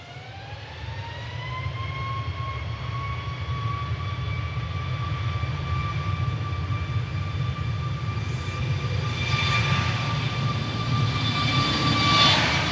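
A Ryanair jet from Alicante touches down at Manchester some distance off, a rising engine whine settling into a sustained tone over a broad, steady roar that swells slightly toward the end.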